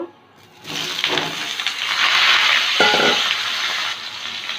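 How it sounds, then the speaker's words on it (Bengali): Ridge gourd frying in hot oil in a wok, a steady broadband sizzle that rises sharply after a quiet start and holds loud and continuous before easing slightly near the end, with no talk. "কড়াইতে একটু তেল গরম করে নিয়েছি ঝিঙ্গাটা ভেজে নেব"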